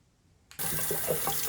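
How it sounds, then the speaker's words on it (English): Lukewarm water from a faucet starts abruptly and runs steadily into a sink for rinsing a Berkey water filter element, a close, even splashing rush with no talk. "I'm just going to use lukewarm water. I'm going to rinse this off."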